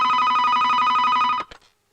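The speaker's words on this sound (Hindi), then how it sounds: "फोन मैं उठा लूंगी" A telephone rings loudly and steadily in a home scene from a Hindi-dubbed South Indian action romance, a continuous electronic trill that cuts off abruptly after about a second and a half, followed by a few faint clicks.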